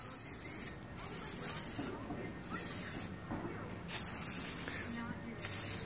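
Bursts of Silly String aerosol spray hissing on and off several times, fairly close, with people talking and laughing between them.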